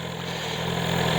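BMW S1000XR motorcycle engine idling up close, a steady low rumble with a slight rise in loudness over the brief stretch.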